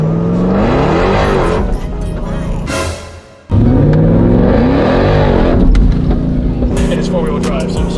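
A 1300 hp Jeep Trackhawk accelerating hard from inside the cabin, a loud rising engine roar with supercharger whine that dips briefly at a gear change before surging again, with people talking over it.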